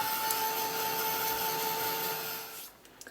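Dryer blowing over wet paint on a mixed media art journal page, a steady close whooshing hum with a faint whine that runs for under three seconds, then cuts off, followed by a few small clicks.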